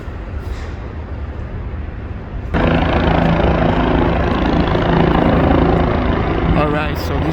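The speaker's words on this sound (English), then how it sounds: "this is Pier 6 and this is where the helicopters land and take off." A helicopter operates at the Pier 6 helipad in Manhattan, a steady loud engine and rotor roar that swells suddenly partway through and stays heavy to the end, heard from close by along the waterfront.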